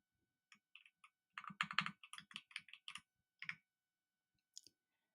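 Someone types a git command on a computer keyboard: a quick, uneven run of crisp close key clicks with short pauses, then a final isolated keystroke after a gap, in an otherwise quiet room.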